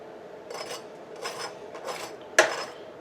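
A knife works around the edge of a metal bread pan holding a freshly baked, crispy-topped loaf, making several soft rasping scrapes followed by one sharp clack near the end, close and with no talking.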